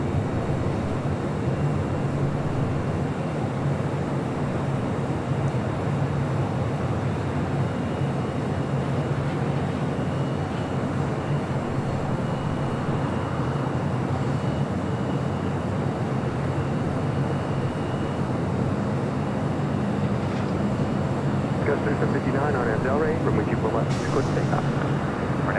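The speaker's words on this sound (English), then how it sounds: "Back to the north side is the KLM Dreamliner heading back to Amsterdam" A KLM Boeing 787 Dreamliner airliner moving at LAX, heading toward runway 24 left, gives a steady, broad jet roar that stays distant and constant throughout, rising slightly in brightness near the end.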